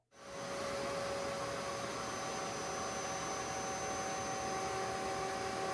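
An Onefinity Elite CNC router cutting grid lines into a QCW wasteboard, its spindle rising quickly to a steady, loud, continuous whine with a constant high tone that holds throughout.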